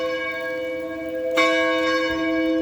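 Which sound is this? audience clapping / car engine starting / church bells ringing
church bells ringing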